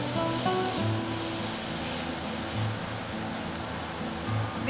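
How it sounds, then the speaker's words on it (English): Finely chopped onions fry with cinnamon and other whole spices in a pan on medium heat, giving a steady, close sizzling hiss over a low hum. "Now we will add 2 finely chopped onions"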